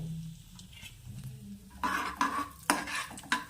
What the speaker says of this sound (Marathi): तूप तापलेलं आहे मी बदाम आणि काजू ॲड करते कारण ते तुपामध्ये छान थोडं भाजल्या जाते